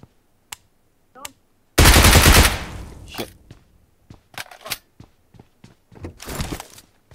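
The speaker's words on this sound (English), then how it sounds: "My my SMG is on auto" An SMG firing on full auto in PUBG Mobile's Metro Royale mode: one loud sustained burst near the start, then a few scattered short bursts and single thumps with quiet gaps between.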